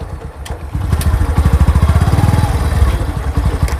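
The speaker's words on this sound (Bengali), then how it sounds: "বাইক স্টার্ট হয়ে গেছে" A motorcycle engine, just self-started, idles with a loud close rapid putter that steadies into an even rhythmic chug, a couple of faint clicks over it.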